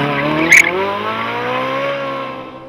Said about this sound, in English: Great traction coming out of the corner and up through the gears down this straight.